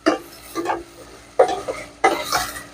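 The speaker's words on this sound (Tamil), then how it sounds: "நல்லா பொன்னிறமாக நல்லா வதக்கிக்கிறோம்" Dry prawns sautéing in a pan over lowered heat, with soft sizzling and several bursts of stirring scrapes spaced across the moment, close and moderately loud.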